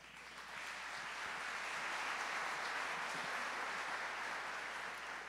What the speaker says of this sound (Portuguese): acolhemos com uma salva de palmas.